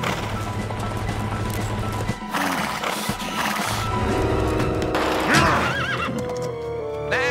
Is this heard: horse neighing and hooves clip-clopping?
yes